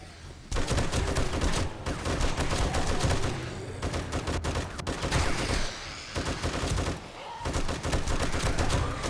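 Sustained automatic fire from a drum-magazine gun in 7 Days to Die, loud, dense bursts running almost continuously with brief pauses between strings of shots.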